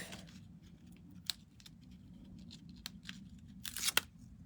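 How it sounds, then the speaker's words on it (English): Adhesive strips peeled off paper during card making, giving soft scattered ripping and crinkling sounds close by, with a louder burst of tearing near the end over a low background hum. "All right, then peel these off."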